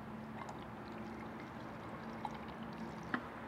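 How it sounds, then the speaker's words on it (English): Bug and tar remover wash is poured into a sprayer bottle, a soft, continuous liquid trickle, quiet and close, with a couple of small clinks near the end. "we're gonna pour our bug and tar remover wash directly up until the line where it hits the 6-to-1 ratio"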